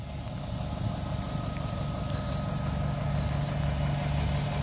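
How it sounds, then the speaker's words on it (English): A 2007 Dennis Javelin Plaxton Profile 70-seat coach with a Euro 4 Cummins diesel engine idles steadily, giving a low, even rumble with a faint ticking. It stays close and unbroken, and no one speaks. "You can hear the Euro 4 Cummins engine ticking away there."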